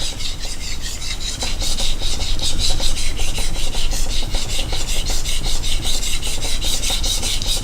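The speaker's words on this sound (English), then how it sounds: "And then as I sharpen, you should get quieter." Rhythmic rasping strokes of a knife drawn across a Japanese natural Suita whetstone, close and loud, repeating steadily back and forth.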